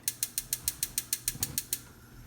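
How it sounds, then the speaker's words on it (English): A kitchen stove being switched on: a quick run of about a dozen sharp, evenly spaced ignition clicks, close and fairly loud, stopping abruptly. "so I'm just gonna turn on my stove"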